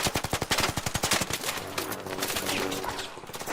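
Rapid automatic gunfire in Counter-Strike during a PGL Masters Bucharest 2025 playoff match: a fast, loud, steady burst of shots that smears into continuous firing.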